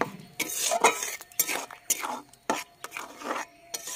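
A utensil scrapes and clatters against a pan while a spice paste with tomato fries for a Bengali dried lote fish curry, repeated close, rhythmic stirring strokes over a faint sizzle.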